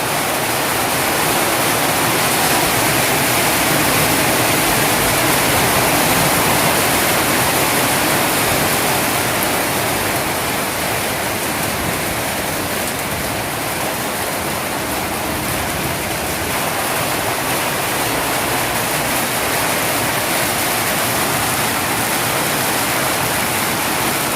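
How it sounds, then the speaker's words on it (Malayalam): Heavy rain falls steadily and loudly in Spain, a dense, even roar with no break and no voices. "ഇവിടെ നല്ല മഴയാണെന്ന് ഞാൻ കാണിച്ചത്."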